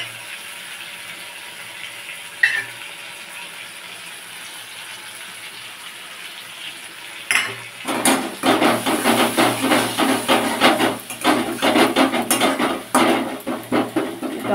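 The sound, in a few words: sautéing fresh green jackfruit with spices in a pan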